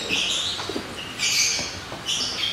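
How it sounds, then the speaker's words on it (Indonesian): A caged songbird of the Sinato type, kept alone in its own room, gives repeated bright chirping bursts in three clusters, moderately loud and near, with faint background noise and no talk. "Ya Om, burungnya Sinato ya"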